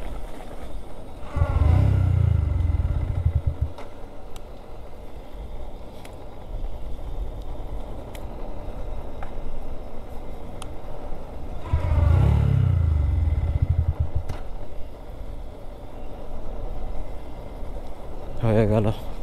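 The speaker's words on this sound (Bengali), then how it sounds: "বাইক স্টার্ট হচ্ছে না" A stalled motorcycle on a hilly jungle road in Bengal is repeatedly cranked but fails to start, two bursts of low churning engine turnover separated by quiet gaps, with a faint click near the end and people talking throughout.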